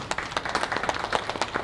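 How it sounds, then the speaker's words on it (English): A small audience gives a brief burst of clapping, several hands patting quickly in an uneven patter at close range. "Let's give him a round of applause."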